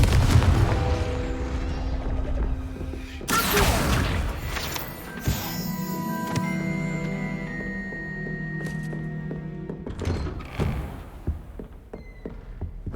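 Confringo blasting spell in Hogwarts Legacy: a loud burst of explosive impacts with a crashing boom, followed by ringing magical tones and further smaller blasts.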